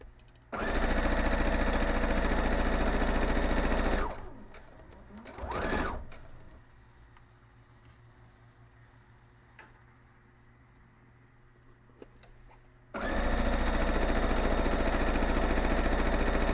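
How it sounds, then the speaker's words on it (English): A sewing machine stitches quilt block pieces together in two loud, steady bursts, running near and alone with a quieter pause between them. "we're going to go sew these up, iron them open, and then trim off a little bit."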